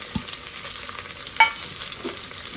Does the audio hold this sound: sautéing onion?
yes